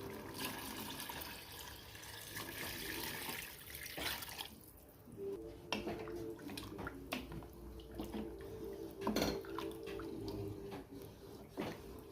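Water splashes and trickles steadily into a pot for chicken biryani, with a few clinks of the vessel and some dripping toward the end.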